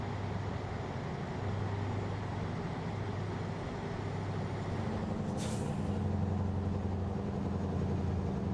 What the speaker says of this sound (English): Most people call them Jake brakes.